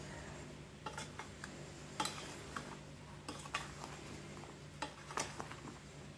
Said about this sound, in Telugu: ఇప్పుడు బాగా మిక్స్ చేసేసుకోవాలి